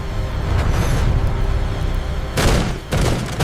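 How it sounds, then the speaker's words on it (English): Aircraft cannon fire from an Argentine jet strafing a British landing craft in the Falklands War, a loud continuous hammering burst of gunfire with a sharp renewed blast near the end. "his cannons hammering the landing craft"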